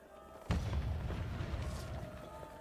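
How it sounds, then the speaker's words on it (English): A trebuchet firing in Kingdom Come: Deliverance during the retaking of Talmberg, a single heavy boom followed by a rumbling, mechanical tail that fades slowly. "Fire the trebuchet!"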